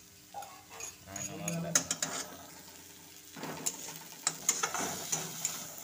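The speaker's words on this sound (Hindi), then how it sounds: "तेल गरम हो गया है, अब अदरक लहसुन पेस्ट, नमक भी थोड़ा डालेंगे" Ginger garlic paste and a little salt hit hot oil in a pan, giving irregular close sizzling bursts and spattering with clinks of a utensil stirring, while a person talks.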